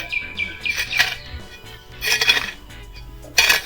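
Potting mix components being stirred together in a container, giving scraping and rustling in several short bursts between quiet gaps, close by with no speech.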